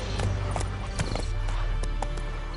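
Hooves of Roach, the horse in The Witcher 3, clop in a quick galloping rhythm, sharp repeated hits over a low background hum, fairly faint.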